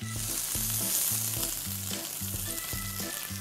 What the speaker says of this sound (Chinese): 我哋而家嚟到重點要煎蝦啦。 今次就會用牛油煎嘅